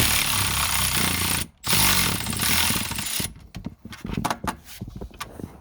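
A power tool runs steadily, tightening bolts on a Subaru Outback automatic transmission during installation, a loud continuous whir that cuts out briefly, then gives way to shorter, choppier bursts and clanks.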